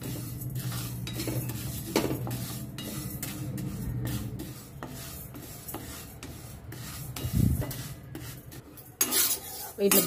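Lentils dry roasted in a pan for curry leaf spice powder, with scraping and rattling stir strokes of a spoon against metal, close and uneven, no voices.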